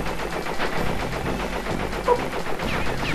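Rapid gunfire from shooting at blimps in the Crash Bandicoot: Warped video game, a dense, continuous burst of shots over busy game music and effects, with a sharper blast near the two-second mark.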